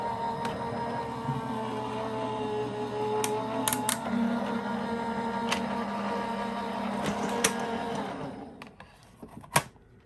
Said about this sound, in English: Put the clear plate on top and run it through your machine.